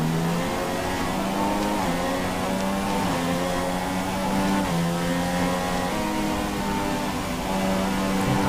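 Formula 1 race car engines in the F1 2016 game at the Bahrain Grand Prix, a loud continuous high-pitched whine that rises and falls with gear changes as cars pass, with no talking.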